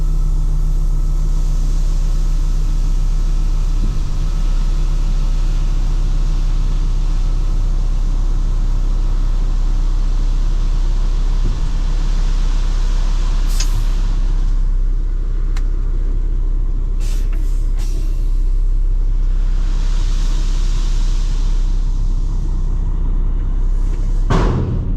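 A 2025 Kenworth T880 dump truck sits running with its PTO engaged, giving a loud, constant low engine rumble throughout, broken by a few brief metallic clanks and hissy bursts near the middle and end.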